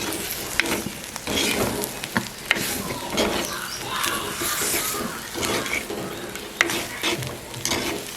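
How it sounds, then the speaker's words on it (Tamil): Banana pepper curry with chilli powder and salt is stirred in a pan, with a soft sizzle under repeated scraping and clinking strokes of a spoon against the pan, close and fairly busy. "நல்லா பிரட்டிட்டு பெரிய நெருப்பில் மூடி விடுவோம்."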